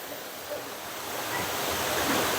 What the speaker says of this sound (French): Là, on voit la petite rivière qui se transforme tranquillement en chute.